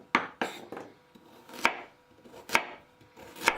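Carrots sliced into rounds about a centimetre thick, a knife knocking sharply on a cutting board in a handful of separate, unevenly spaced chops, close and clear with no voices.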